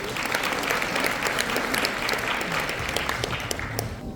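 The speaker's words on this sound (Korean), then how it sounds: "큰 박수로 모시겠습니다" An audience at a year-end gathering of a regional residents' association in a hotel ballroom gives a steady round of dense applause to welcome the association president, close and continuous, fading slightly at the end.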